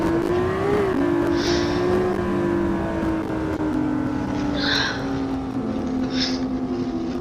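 A steady, droning car engine revs with slight rises and dips in pitch throughout, joined by a few brief hissing bursts.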